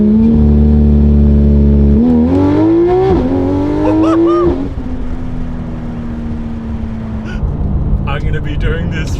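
A Porsche GT3 RS engine revs hard on the pit speed button, a loud rising roar that climbs in steps and then settles into a steady drone, with a voice exclaiming over it.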